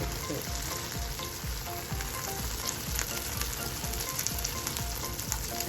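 Eggs fry in a pan with a steady, close crackling sizzle that runs without a break, busy with small pops, and no one speaking.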